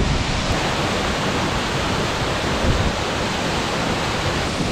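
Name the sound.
Virginia Falls waterfall in Glacier National Park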